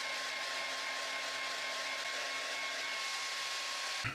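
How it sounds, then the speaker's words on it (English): A hairdryer on medium heat blows steadily and close at constant volume while drying a small bird's feathers during taxidermy, a continuous whirring hiss that cuts off abruptly at the end, with no talk. "we're just going to use the hairdryer and hair dry that"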